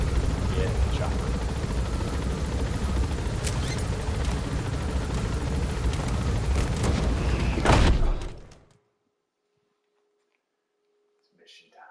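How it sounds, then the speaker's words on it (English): A helicopter in the video game Metal Gear Solid V drones steadily and loudly for about eight seconds with speech over it, then cuts off abruptly into near silence. "Get in the chopper."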